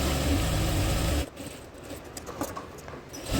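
A sewing machine stitches the front part of a salwar in a brief, steady mechanical whir. It stops after about a second, leaving quieter scattered handling sounds.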